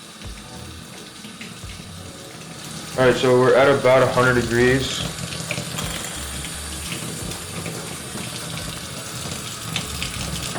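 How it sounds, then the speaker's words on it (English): Tap water runs into a bucket while developing C41 colour film at home, a bright gushing burst for about two seconds, then a steady low flow; someone speaks briefly at the start. "I'm going to go ahead and just fill up the bucket with water"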